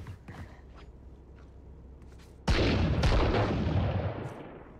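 A grenade detonating in Valorant: after a few faint taps, a sudden loud, deep boom erupts and rumbles before slowly decaying, with no talk over it.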